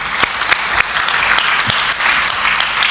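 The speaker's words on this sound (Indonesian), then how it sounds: "Beri tepuk tangan untuk Bapak Yahweh." An audience claps for a speaker at a parenting talk, loud and dense close applause that holds steady for a few seconds with sharp individual claps standing out, and no voices over it.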